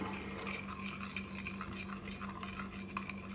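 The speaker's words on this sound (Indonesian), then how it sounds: "Jangan lupa diaduk dulu sampai rata." Utensils stirring a bakmie noodle seasoning mix in a bowl, a steady close scraping and light clinking that runs throughout with no talking.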